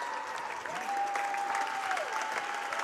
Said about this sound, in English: they get a really nice hand from this nice crowd here.